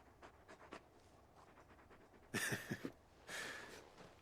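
Panting from a large dog companion in Final Fantasy XVI: a few quick breathy pulses near the start, then louder, close bursts of rhythmic panting with no talk.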